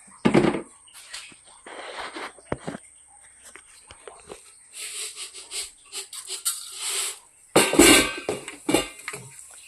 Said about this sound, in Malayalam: കടുക് പൊട്ടി വരട്ടെ.